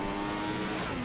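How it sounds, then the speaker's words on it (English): A Formula 1 car engine revs in the F1 2015 racing game at the Spanish Grand Prix, a steady, high-pitched mechanical drone that climbs slightly in pitch during one brief continuous stretch. "Build up the revs."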